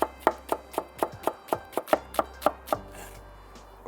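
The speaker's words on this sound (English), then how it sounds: "finely slice 2 spring onions" A knife finely slices two spring onions on a board in a quick, even run of about a dozen crisp taps. Then the cutting stops and only quiet room tone remains.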